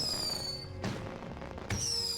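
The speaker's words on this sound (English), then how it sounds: "So we've placed E to light the fireworks." Fireworks in the farming game My Time at Portia burst twice, each a sharp crackling boom about a second apart, over a bright steady game music background.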